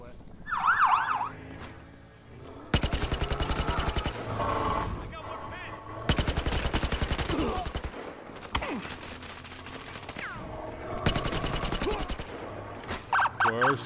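Battlefield gunfire, with long sustained bursts of rapid automatic fire repeating in loud stretches, separated by quieter gaps holding voices and other game sounds.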